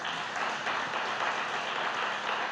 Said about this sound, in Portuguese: Se você quiser aplaudir ao Senhor,